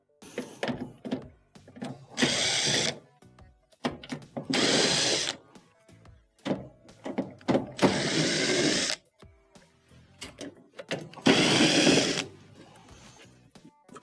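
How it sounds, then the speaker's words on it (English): Power screwdriver backs out Phillips screws from the rear console panel of an LG dryer, four or five whirring bursts of a few seconds each, separated by lighter handling clicks and clatter. "To begin, must first remove the rear panel from the console here. It is held on by multiple Phillips screws."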